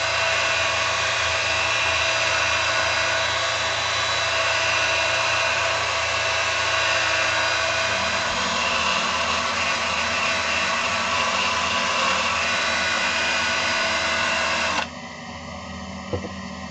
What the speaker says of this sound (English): ready to do the buffing. I'm going to do it under power with a little lamb's wool